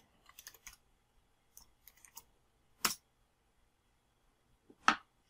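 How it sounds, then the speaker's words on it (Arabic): Sparse typing on a computer keyboard, a few quiet clusters of close key clicks separated by silence, ending with two sharper, louder key strikes. "لو أكتب مثلا help"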